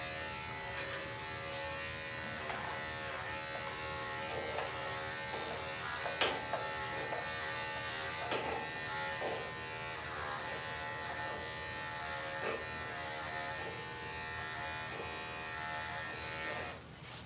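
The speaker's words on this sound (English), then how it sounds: "let's go ahead and start at the base and rock and roll with our 7 blade" Electric dog grooming clippers fitted with a 7 blade buzz steadily and close on a Doodle's coat, a continuous hum with slight changes in pitch as the blade moves through the hair.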